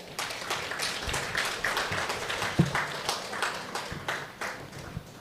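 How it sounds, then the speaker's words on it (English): An audience at an award ceremony for scientists claps to welcome dignitaries onto the dais, a steady, moderately loud round of applause that runs without pause for the full stretch. "Let us welcome all our distinguished dignitaries with a warm round of applause."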